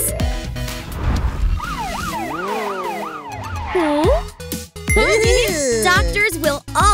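A cartoon ambulance's wailing siren sweeps up and down repeatedly, loud and near, over a busy mix of engine noise and chiming music.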